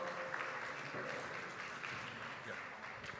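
A conference audience at an Advancing Justice event applauds a performer, a soft, distant, continuous patter of clapping with faint voices mixed in.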